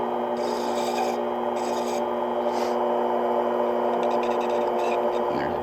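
A hand file rasping a small chamfer onto a metal part for a mini lathe spindle stopper, steady back-and-forth scraping strokes heard close over a constant workshop hum.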